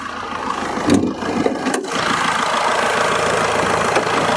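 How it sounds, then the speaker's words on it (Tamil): A 2010 Tata Indica Vista diesel engine cranks and catches with a short burst, then settles into a steady, close, clattering diesel idle that holds even for the rest of the clip. "இப்போ வண்டியோட இன்ஜின் நம்ம ஸ்டார்ட் பண்ணுறோம்."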